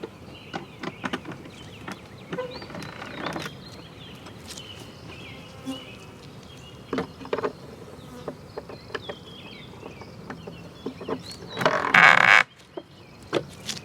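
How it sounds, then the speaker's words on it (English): Honey bees buzzing steadily in a low drone around their hive, with individual bees flying close past now and then, one loud buzz near the end. "All of these bees should be out by tomorrow."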